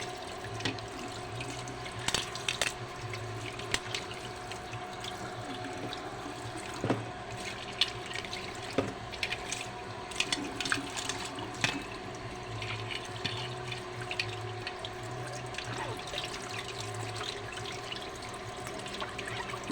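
Tap water runs steadily into a kitchen sink while a pot lid is rinsed during cooking of fish sinigang with miso, with a constant low rush and scattered small clinks and splashes throughout, no talk.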